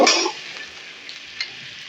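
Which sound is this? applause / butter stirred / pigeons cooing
butter stirred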